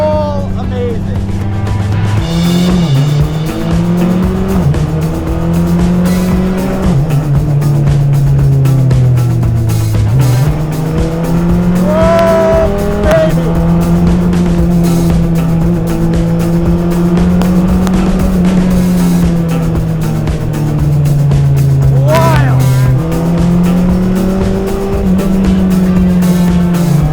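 BAC Mono single-seat sports car driving hard with a loud, steady engine roar that rises and falls through gear changes, with occasional tyre squeal and buffeting wind, recorded close from the car as a person talks over it.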